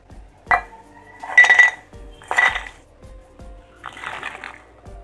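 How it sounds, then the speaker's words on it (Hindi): Fried namak pare snacks are tipped into a metal vessel, giving several separate clattering clinks and scrapes of pieces hitting metal, with short quiet gaps between the bursts and no talking. "तो अब हम इसे भी एक बर्तन में निकाल लेते हैं।"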